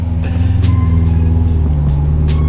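A 700hp supercharged BMW E92 M3 rumbles deeply at idle, close and loud, with a steady low engine throb and a few faint higher clicks over it.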